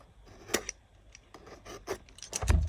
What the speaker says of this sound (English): You can see that it is tightly sealed, so we can as well just cut through this.